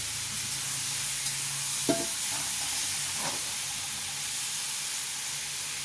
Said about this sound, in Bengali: আলুটা লাল হোক, তেজপাতা ডান দিকে দিয়ে দিয়েছি।